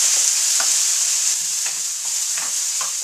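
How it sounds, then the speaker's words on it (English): Potatoes fry in a pan with a steady, bright sizzle, broken now and then by soft scrapes and clicks from stirring; close and continuous, with no talk. "So right now, I'll let these potatoes cook."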